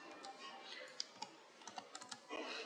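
Someone types C code on a computer keyboard, with a quick string of close, crisp key clicks and a few sharper taps.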